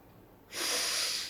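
A single loud, breathy exhale pushed out through the mouth as a "hah" during a relaxation breathing exercise, rising after a moment of quiet and held for nearly a second.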